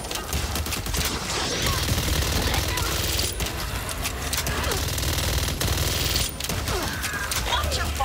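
Gunfire from the player's weapon in the Back 4 Blood shooter game, sustained rapid automatic bursts that crackle loudly and continuously, with only brief pauses between volleys.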